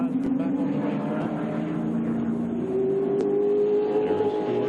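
A NASCAR stock car at a 1999 superspeedway race rolls back out of the pits with a loud, steady engine drone whose pitch climbs gradually as it pulls away, with no voices over it.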